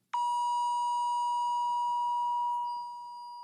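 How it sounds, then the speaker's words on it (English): A single pure 963 hertz tone sounds steadily, clean and unwavering, fading slightly toward the end. "And then finally, we have the 963 hertz."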